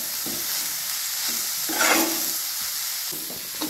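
Crushed peanut powder is stirred into radish greens frying in a pan, giving a soft continuous sizzle with repeated scraping stir strokes and no talking.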